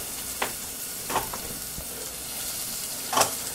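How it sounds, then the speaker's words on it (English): Garlic, onions and peppers sauté in a hot pan, giving a steady close sizzle broken by a few spatula stirs and scrapes. "As soon as you smell that garlic open up, throw your onions in there, both of your peppers."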